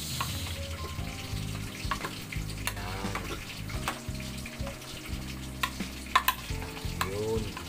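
Sweet potato tops stirred and fried in a pan, with steady sizzling under repeated scraping and stirring strokes, close and fairly quiet, no talking.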